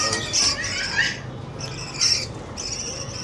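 Pet birds in a newly set up aviary give repeated squawks in short bursts, fairly close and moderately loud over a steady background hiss, with no talking.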